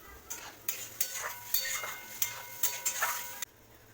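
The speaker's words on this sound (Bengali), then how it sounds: "তারপর সবকটি উপকরণ ভালোভাবে নেড়ে নিয়ে জল অ্যাড করব।" Curry ingredients stirred in a pan for a Thankuni leaf fish curry, with repeated scraping strokes of a utensil against the metal pan in a steady rhythm, close and moderately loud, ending abruptly.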